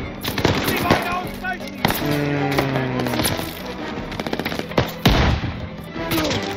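Gunfire in the video game Call of Duty Vanguard, with shotgun blasts among it: loud, scattered sharp shots and bursts over a busy battle din, with voices shouting and talking in between.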